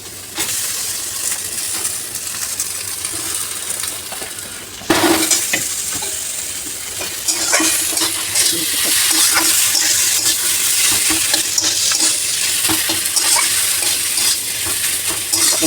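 Potatoes are added to a hot pan of oil with turmeric and fried while being stirred, a continuous loud sizzle that jumps up sharply when they go in, with scraping stirs throughout.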